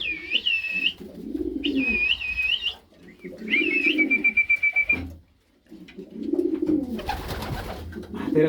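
Racing pigeons coo in a loft, in several close, repeated phrases separated by short pauses.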